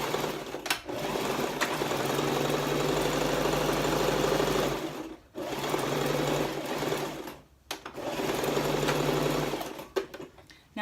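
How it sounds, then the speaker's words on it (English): A sewing machine stitches a plain seam on a bow, running in three long, steady, fairly loud whirring bursts with brief stops between them. "I'm gonna sew along just to make a nice normal seam there"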